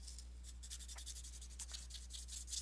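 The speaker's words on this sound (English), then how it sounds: "go ahead and sand the entire piece until it's all nice and even" Sandpaper rubbing over a metal ring piece in jewelry work, a quiet, steady run of short scratchy strokes in quick rhythm, close and soft, over a low steady hum.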